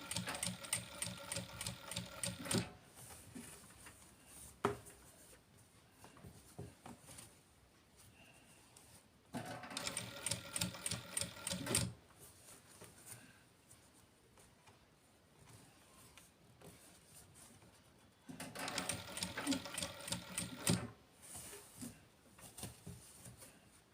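A sewing machine stitches piping onto a blouse in three quick bursts of rapid whirring, separated by quiet pauses with soft handling noise.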